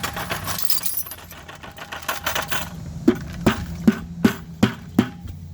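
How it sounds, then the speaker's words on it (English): Shards of a broken beer bottle rattle and clink as they are flushed down a toilet, a rushing wash of water followed by a series of six sharp, fairly close glassy knocks at a steady rhythm. "I'm going to flush some broken glass"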